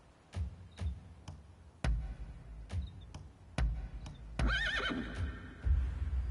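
A horse in the samurai action game Rise of the Ronin gives a whinnying neigh amid a series of sharp hoof clops and clicks, close and moderately loud with no talking.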